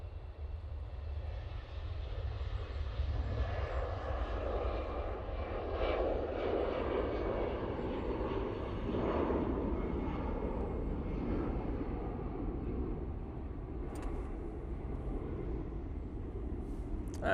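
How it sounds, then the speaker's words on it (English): EasyJet Airbus A320-200 jet taking off at Manchester Airport, a sustained broad engine roar that swells and holds at moderate distance, heard alone without talk. "EasyJet, now they're all using an A320-200."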